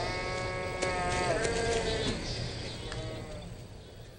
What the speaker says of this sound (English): An unguarded flock of sheep is defenseless.